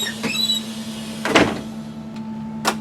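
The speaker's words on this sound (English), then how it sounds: "Door should open and close properly." A school bus entry door slides open and thumps shut in a couple of distinct mechanical strokes, close by over a steady electrical hum.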